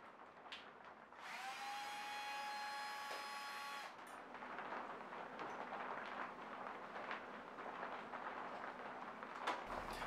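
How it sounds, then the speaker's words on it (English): Tapping 8-32 threads into a metal knife-making fixture on a Pierson pallet system: a steady machine whine with a squealing tone for a few seconds, then a continuous broadband mechanical hum and whir, with no talk. "Finish up by tapping the 832 threads."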